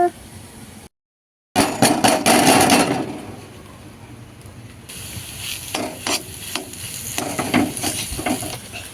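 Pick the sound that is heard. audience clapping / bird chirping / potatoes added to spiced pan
potatoes added to spiced pan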